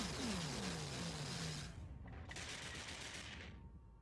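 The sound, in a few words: battleships taking weapons fire in a space video game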